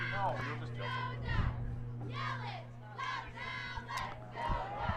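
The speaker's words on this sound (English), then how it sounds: "We have very loud cheerleaders down there." Cheerleaders at a senior night high school soccer game chant loudly in rhythmic, shouted bursts. Several voices yell together in repeated phrases with short pauses between them, and a steady background hum runs underneath.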